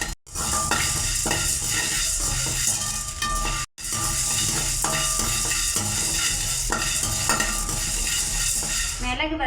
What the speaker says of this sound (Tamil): மிளகு நல்லா வறுத்து எடுத்துக்கலாம்.